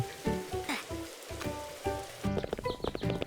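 Acid rain falling in the survival video game Disaster Island Survival, a steady patter of rain on surfaces with game music and effects layered over it.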